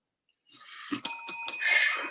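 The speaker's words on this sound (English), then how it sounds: "You ring that Lambo bell." A bell rings three times in quick succession, bright and metallic with clear sustained tones, close by and loud against a hissy background.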